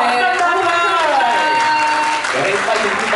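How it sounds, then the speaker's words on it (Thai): A crowd at an aespa press conference in Bangkok breaks into loud, steady applause, with dense clapping sustained throughout and a voice carrying over it. "ปรบมือเลยนะครับเอสป้า"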